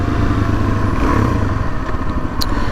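A 2019 Suzuki DRZ 400S dual-sport motorcycle engine drones steadily up close on a short track ride, a constant rough thrum with light mechanical clatter and no talking.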